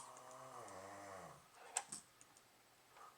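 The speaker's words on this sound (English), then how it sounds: "My dad's snoring. He snores." A man snores in the background, a low, rumbling breath in the first half of the clip, faint and distant, followed by a few sharp keyboard clicks.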